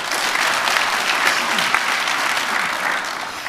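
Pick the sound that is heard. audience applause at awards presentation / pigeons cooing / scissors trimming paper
audience applause at awards presentation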